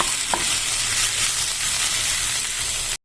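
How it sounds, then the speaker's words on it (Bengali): Sajne flowers (drumstick flowers) with ginger paste being stirred in a hot pan, producing a steady, loud, close sizzle of frying with faint scraping, then cutting off abruptly at the end. "একটুখানি হাফ চামচ পরিমাণ আদা বাটা দিয়ে আমি এটাকে খুব ভালো করে নেড়ে নিচ্ছি"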